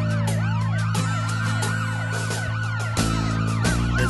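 Wailing emergency sirens in London after the 7/7 bombing rise and fall continuously, several overlapping tones cycling quickly, loud and prominent over a low traffic rumble.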